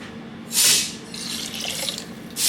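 Soup broth poured into a cooking pot in two short bursts of splashing liquid, with a quieter steady trickle between them, close by and with no talking.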